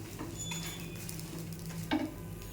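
An aloo paratha fries in a little oil while it is pressed down, giving a faint steady sizzle with a couple of soft pressing scrapes, quiet and close with no voices.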